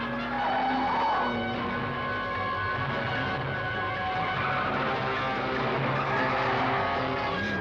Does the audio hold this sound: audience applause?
no